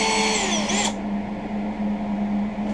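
A drill press bores a pilot hole for a homemade knife grinding jig, giving a loud, close high-pitched whine for under a second before it stops, leaving a low steady hum.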